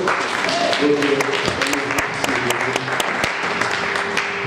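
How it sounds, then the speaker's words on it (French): Applause from a church audience after a sermon, a steady dense patter of clapping filling the room with scattered louder claps and some voices mixed in. "On peut acclamer pour la parole"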